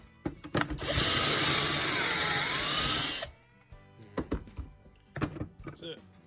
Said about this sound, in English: You're just gonna drill until it hits bottom